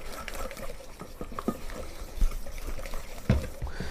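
Butter emulsion sauce being hand mixed with a whisk or spoon in a small batch, producing close, wet stirring and occasional clinks against the pan, fairly quiet and uneven.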